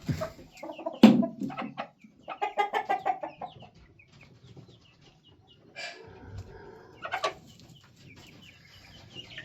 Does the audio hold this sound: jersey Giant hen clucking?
yes